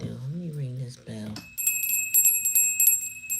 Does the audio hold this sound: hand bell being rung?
yes